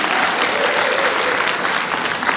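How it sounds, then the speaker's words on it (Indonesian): Dense, loud audience applause fills a televised gubernatorial debate hall after the first round, a continuous wash of many hands clapping without pause. "tepuk tangan untuk ronde pertama putaran pertama ini"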